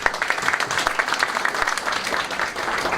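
Audience at a business federation forum with senate candidates breaks into steady applause, a dense wash of many hands clapping in a hall, sustained and even without pause.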